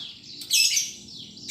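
A caged white-rumped shama (murai batu) gives short, bright, clear chirping calls up close, with a brief pause between two bursts.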